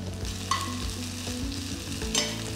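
Garlic and dried Kashmiri chillies fry in oil in a pan, giving a busy, steady sizzle close up, with repeated stirring scrapes and a few sharper clinks.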